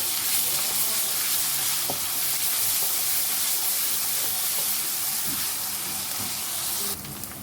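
Garlic-ginger paste fries in a pan for Punjabi kadhi pakora, a continuous close sizzle with faint stirring scrapes that drops slightly in level near the end.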